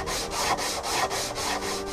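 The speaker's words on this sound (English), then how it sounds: "It's important that while you're sanding, you don't push too hard. Let the sandpaper do the work." Sandpaper is worked by hand over car body filler during a rust repair, giving steady back-and-forth rasping strokes, about three per second, close and loud with no voices.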